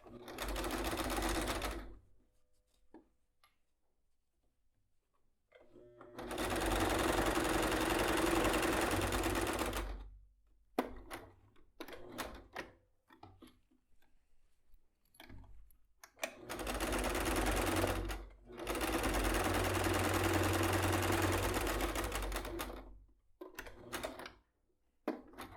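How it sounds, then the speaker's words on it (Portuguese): A sewing machine stitches a zippered bag pocket in three long, close runs of fast, even whirring, separated by quiet pauses filled with handling clicks and rustles. "Vamos separar ele e fazer a costura até aqui do outro lado"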